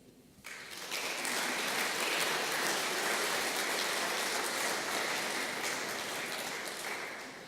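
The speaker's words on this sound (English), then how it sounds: "Well, you not only listen, but you also applaud." A large audience bursts into sustained applause at a formal university anniversary plenary session, the steady clapping rising quickly and holding loud and even for several seconds before easing slightly.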